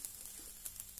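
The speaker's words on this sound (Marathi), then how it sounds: "आता उरलेल्या तुपामध्ये आपण हे खोबऱ्याचा किस" Grated coconut gently roasting in leftover ghee in a pan, a faint, steady soft sizzle with a few small crackles, heard alone and close.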